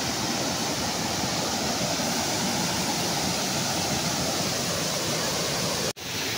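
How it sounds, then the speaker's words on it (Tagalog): Damplom waterfall in Barangay Calapi pours with a steady, loud, full-bodied roar that holds constant throughout, broken only by a momentary dropout near the end. "Isa to sa dinarayo at pinakamagandang falls dito sa may barangay Calapi."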